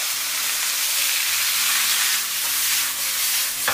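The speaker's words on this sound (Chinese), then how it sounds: "然后继续翻炒。" Bitter melon and egg being stir-fried in a hot wok, a loud, steady broadband sizzle with faint scraping from stirring, with no voices.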